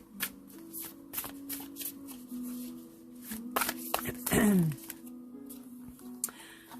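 Tarot cards shuffled by hand in a quiet room, a steady papery riffling and slapping that runs throughout, with one sharper flurry near the end and a faint background tone underneath.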